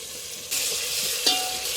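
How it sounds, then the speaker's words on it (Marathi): Tomato and chili fry in hot oil in a pan, a steady close sizzle with a short stirring clatter partway through, no voices. "टमाटा आणि मिरची तेलामध्ये असं मस्त पाहिजे भाजून घेऊया"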